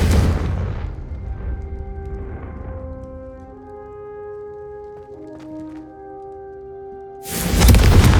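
Confringo fire spells blast in the Hogwarts Legacy video game, with a heavy explosion at the start, a ringing, fading tail, then a second loud boom near the end.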